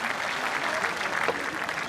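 Spectators at a fierljeppen competition, the Frisian sport of vaulting over canals on a pole, give a burst of applause, continuous broadband clapping held at a steady moderate level throughout.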